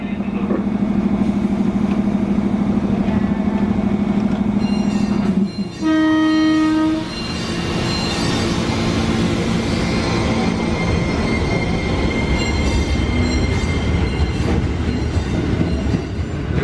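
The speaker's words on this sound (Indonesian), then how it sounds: "KRL 611154 di jalur 1 sinyal keluar Semboyan 5 diizinkan berangkat" A KRL electric commuter train, a JR 205 series, departs Srowot station, Indonesia, with a loud sustained horn, a rising motor whine and rumbling wheels rolling past close by, and a public-address voice over the platform.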